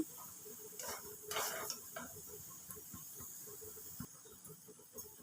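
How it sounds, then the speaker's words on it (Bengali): A quiet, steady sizzle of Badshahi paratha frying in a pan, with a few louder hissing bursts early on and faint scraping or stirring. "বাদশাহী পরোটা এখন ভাজা হচ্ছে"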